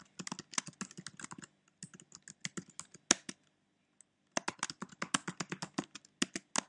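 Fingers typing a password on a computer keyboard, close and quiet, in quick bursts of clicking keystrokes separated by short pauses, with no talking.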